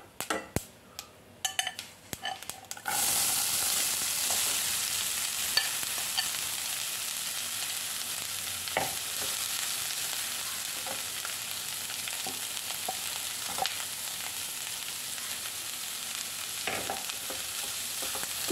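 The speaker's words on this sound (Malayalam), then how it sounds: "ഇനി നമുക്ക് അരിഞ്ഞ് വെച്ചിരിക്കുന്ന സവാളത്തണ്ട് ചേർത്ത് കൊടുക്കാം." Chopped spring onion stalks drop into a hot pan and fry for a stir-fried thoran, opening with clattering and tossing, then a loud steady sizzle broken by scattered scrapes of a stirring spoon.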